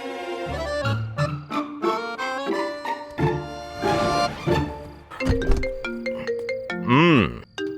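A melodic electronic phone ringtone plays a bright, repeating tune of tones at close range, ending with a warbling chime.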